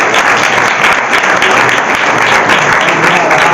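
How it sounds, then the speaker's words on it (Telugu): A church congregation claps their hands together loudly in praise to God, a dense, close burst of applause lasting a few seconds with no break. "దాన్ని బట్టి చప్పట్లు కొట్టి దేవుని"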